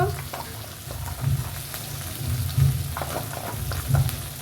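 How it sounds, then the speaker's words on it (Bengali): Onion-garlic paste with turmeric and chili powder frying in a pan for a jackfruit dish, a continuous close sizzle that swells in periodic bursts as the mixture is stirred. "দিয়ে দিচ্ছি পেঁয়াজ রসুন বাটা দিয়ে দিচ্ছি হলুদ দিয়ে দিচ্ছি লঙ্কার গুঁড়ো"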